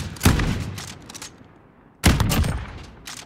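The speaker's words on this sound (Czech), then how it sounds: "Ono to střílí ohnivý náboje." Two loud bursts of rapid gunfire with incendiary rounds in Call of Duty: Modern Warfare, each a fast clattering volley that trails off, separated by a short pause.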